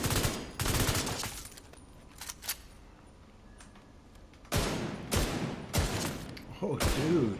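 Rifle fire in The Division booms in heavy, loud single shots and short bursts, spaced irregularly with quieter pauses, and a voice talks between the shots.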